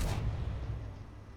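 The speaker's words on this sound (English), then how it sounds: "So this is a tri-cannon design" A tri-cannon tank firing in Space Engineers, a single loud cannon blast at the start that fades into a low rumbling decay.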